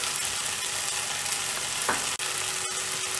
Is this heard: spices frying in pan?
yes